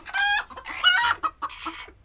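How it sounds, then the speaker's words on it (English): Angry chickens in a barn coop cluck and squawk loudly and excitedly, several birds calling in overlapping bursts with brief pauses between. "So hopefully you enjoy crazy, angry chicken noises."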